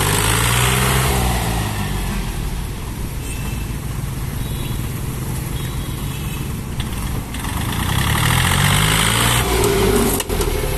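A Kubota L1-18 tractor engine with a mechanical clutch and gearbox runs nearby during a test drive, a loud steady diesel chug that dips slightly mid-run before swelling again as it revs.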